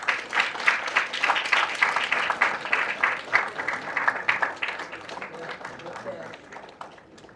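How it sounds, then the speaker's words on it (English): Audience applause at a live launch event, a dense patter of many hands that swells in the first seconds, holds steady and then tapers off gradually. "let's give a round of applause"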